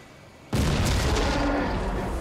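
Rocket explosion in the World War II strategy game Company of Heroes bursts in suddenly after a quiet lull, a loud booming blast that rolls on into sustained rumbling and crackling debris.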